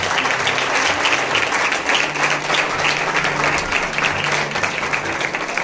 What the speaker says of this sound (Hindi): उनके लिए जोरदार तालियां बजाएं।